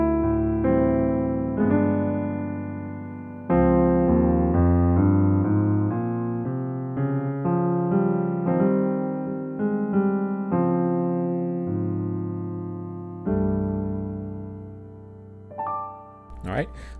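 A piano plays a 2-5-1 chord progression slowly, ending on a Phrygian movement, with sustained chords struck one after another and left to ring, and a brief soft noise at the close.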